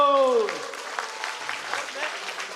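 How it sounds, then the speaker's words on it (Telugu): An audience at a school event claps for a teacher, a steady patter of hands right after a brief spoken voice, continuing evenly at a moderate distance. "మరోసారి వీర్రాజ్ మాస్టర్ గారికి చప్పట్లు."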